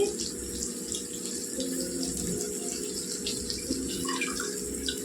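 Tap water runs steadily over curry leaves as they are rinsed in a kitchen while making ivy gourd (dondakaya) chutney, a continuous close splashing hiss with no talk.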